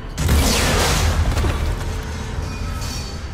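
A bomb detonates in a lab elevator area on planet Sur'Kesh in the video game Mass Effect 3, a loud, deep booming blast with rumbling crash debris that lingers and slowly fades over a few seconds.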